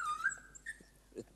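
A dog gives soft, high whimpers and short yips. There are a few brief whines over about a second and a half, faint and fairly close, with no talking.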